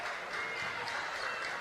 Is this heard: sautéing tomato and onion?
no